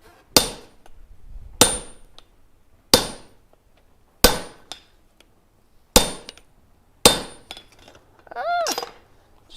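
Hot steel hammered on an anvil beside a gas forge: six sharp, ringing metallic strikes at a steady, unhurried pace, each decaying quickly, followed by a brief resonant ring near the end.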